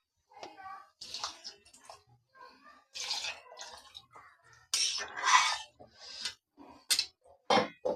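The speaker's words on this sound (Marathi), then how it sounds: "आता आपण याच्यामध्ये पाणी टाकून घेणार आहोत।" Water goes into a pot of green-masala pulao in a pressure cooker, heard as several short, close splashing pours separated by brief pauses.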